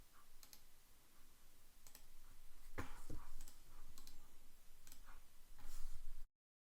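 Computer mouse clicking while selecting a command string on screen, a handful of sharp, close clicks spaced irregularly over a faint background hum, no talk.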